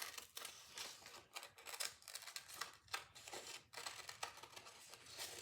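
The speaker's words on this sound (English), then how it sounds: "let's go ahead and cut out the polar bear." Scissors snip through paper while a polar bear shape is cut out for a simple craft, giving a steady run of close, crisp cutting strokes with short pauses between bursts.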